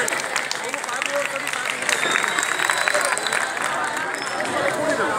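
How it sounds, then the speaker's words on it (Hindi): Applause from an audience at a Republic Day celebration, dense clapping blended with crowd chatter and voices, steady and fairly loud throughout before fading slightly. "एक बार जोरदार तालियां।"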